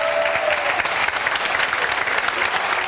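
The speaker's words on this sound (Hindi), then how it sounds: "जोरदार ताली बजाओ भाई।" An audience claps loudly and steadily, a dense close burst of applause that holds evenly across the moment with no break.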